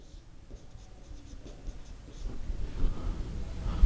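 Chalk or marker scratches across a board in short strokes while a geography lesson on mountain types is being written up. The soft scratching stays close and gradually grows a little louder.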